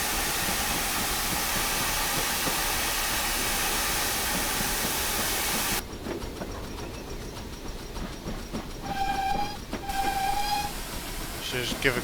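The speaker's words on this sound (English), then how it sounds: "Just give a quick whistle to anybody who's thinking about crossing there." A steam whistle sounds from a 2MT steam locomotive in Train Simulator on Scotland's western lines, with two short tonal blasts near the end over a steady chuffing and rolling rail background.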